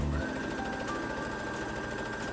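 A sewing machine stitches a bust dart on a dress, running continuously and close up at a fairly quiet level with a fast, even mechanical whir.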